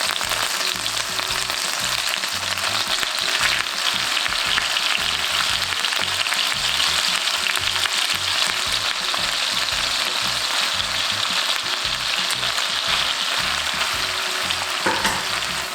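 Chicken pieces fry in a pan of oil, turning golden, with a dense, even sizzle that holds at a constant level for the whole stretch and never lets up.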